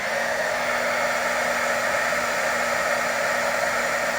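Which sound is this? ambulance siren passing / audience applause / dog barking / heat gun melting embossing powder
heat gun melting embossing powder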